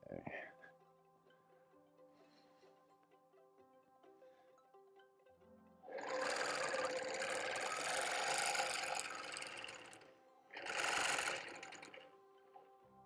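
A sewing machine stitching a quilt runs in two bursts, a long steady whirring run followed by a shorter one, close and fairly loud, with quiet talking before it starts.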